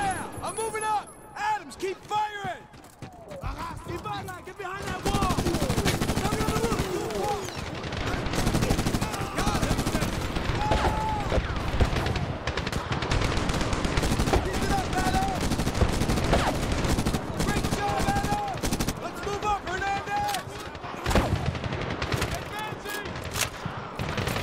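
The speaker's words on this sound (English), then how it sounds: "Adams, keep firing!" Gunfire in the video game Medal of Honor with the player pinned in a valley, heavy sustained shooting and bursts of automatic fire close by, layered under frequent shouted voices.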